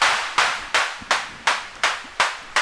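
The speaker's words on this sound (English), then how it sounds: "I just love the tone of claps, and you can set their decay." Synthesizer clap module firing a steady series of seven sharp claps, each with a long decaying tail, evenly spaced and loud with no talk.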